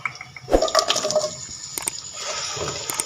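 Half a cup of cooking oil poured into a pot, a short splashing, gurgling liquid stream with a few drips, close and fairly loud, with no talking.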